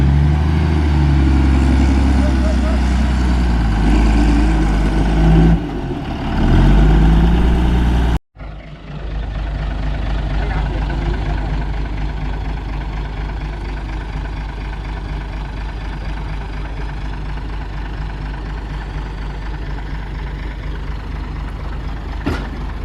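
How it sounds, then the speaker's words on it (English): A ready-mix concrete lorry turning and manoeuvring on a new house build site: a loud, heavy diesel engine rumbling and revving close by, a brief cut, then steady lower idling and engine drone continuing throughout. "Oh, that's a good turning circle on that lorry,"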